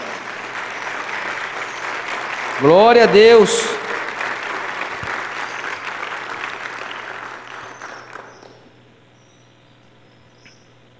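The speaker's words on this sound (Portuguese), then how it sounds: "levanta aí e dá uma salva de palmas para Jesus" Sustained applause from a church congregation during a service, dense and steady for several seconds, with a loud voice shouting briefly over it before the clapping gradually dies away.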